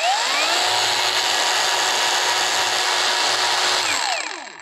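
A Hujia cordless brushless angle grinder runs continuously with its trigger lock engaged, giving a loud, steady, high-pitched whine heard alone up close. It spins down briefly at the very end.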